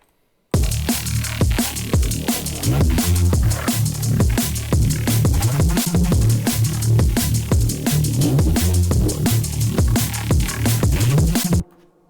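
A thick, growling Reese bass line from a Serum preset pulses under a steady drum beat with punchy kicks and crisp hits, loud and continuous throughout.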